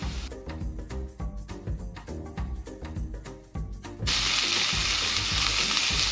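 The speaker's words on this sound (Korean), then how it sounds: "자, 당근이 어느 정도 볶아졌다고 싶으면 그 다음에는 감자하고 양파를 같이 넣겠습니다" Carrots, potatoes and onions fry in a pan for curry, with knocks and stirring clatter first, then a loud, steady, bright sizzle after more vegetables go in.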